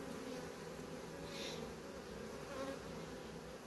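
Close, steady buzzing of honey bees, a continuous droning hum that swells slightly as insects pass near.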